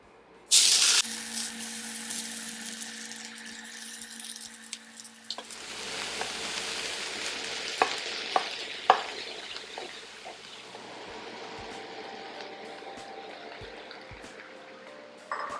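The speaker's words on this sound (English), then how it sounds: "start frying the veggies." Vegetables frying and being stirred in oil in a pan while making japchae, a Korean glass noodle dish; a bright hiss starts abruptly and then settles into a steady sizzle with scraping and clinks, with no talking.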